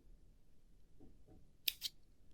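Scissors snip thread on a piece of Turkish needle lace, two quick close cuts followed by a third sharp click at the end, with faint handling noise before them.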